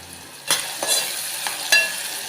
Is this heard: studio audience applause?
no